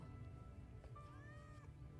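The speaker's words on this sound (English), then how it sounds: "Thank you, Cat" A cat in the video game Final Fantasy VII Remake gives a single drawn-out rising meow, faint under a steady low game background hum.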